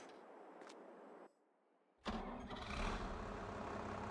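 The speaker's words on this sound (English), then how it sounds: "I'm gonna take that Fendt tractor that has such a beautiful sound" A quiet hum cuts out, then a Fendt tractor engine in a farming video game cranks and roars to life, settling into a loud, steady idle.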